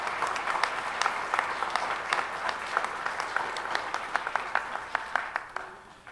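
A church congregation at a Spanish-language Sunday Mass claps for the readers' ministry, a moderately distant, even round of applause that fades out toward the end.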